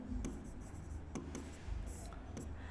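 Chalk or marker strokes scratch across a board in short bursts while prime factorization is written out, quiet and close.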